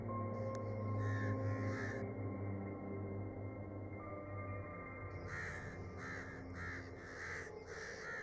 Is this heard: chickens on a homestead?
no